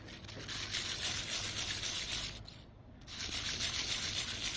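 A pulse jet engine part for a gasoline model airplane is rubbed back and forth on a concrete floor to smooth burrs, a close, steady gritty scraping with a brief pause midway.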